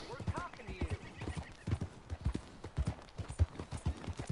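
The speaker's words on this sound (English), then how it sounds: "that's a nice looking horse you have there" A horse's hooves clip-clop at a steady walking rhythm in Red Dead Redemption 2, close and distinct, with a brief whinny and voices talking over the hoofbeats.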